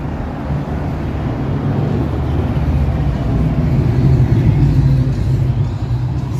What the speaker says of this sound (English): cars are noisy